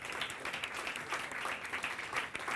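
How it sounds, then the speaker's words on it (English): A conference audience applauds, a soft, dense wash of clapping heard at a distance, steady and fairly faint for a few seconds. "let's give them a big round of applause and recognize them for a great"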